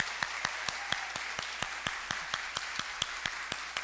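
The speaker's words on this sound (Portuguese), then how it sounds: "aplaudisse esse pessoal todo." A church congregation at a celebration service claps in a steady, sustained round of applause with sharp, regular claps up front. It carries on evenly throughout, with no talking.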